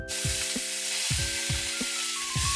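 A pork chop sears in a hot pan, a loud steady sizzle with rhythmic pulses as a teaspoon presses down on the meat about every half second.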